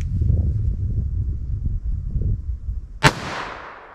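A single sharp, loud gunshot from a Heritage Rough Rider revolver firing .22 Magnum cracks out near the end. It follows a few seconds of low, rumbling background noise, and its echo fades quickly.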